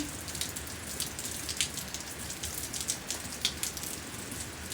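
Heavy rain pours down at night in Auckland, a steady dense hiss of drops drumming on surfaces with scattered louder splats, close and continuous with no voices.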